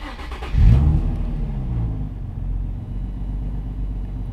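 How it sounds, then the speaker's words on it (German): A Nissan 350Z HR engine cranks and fires, flaring briefly in a sharp rev before settling into a steady, rumbling idle, close and loud with no voices. "Und das werden wir jetzt machen, indem wir den Wagen wieder starten."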